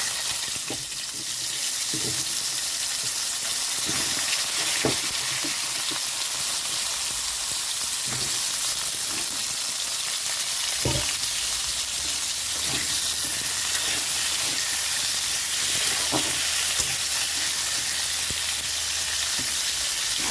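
Potatoes fry with cumin in a pan for a tengra fish, potato and aubergine curry, giving a constant close hissing sizzle broken by occasional soft knocks of stirring.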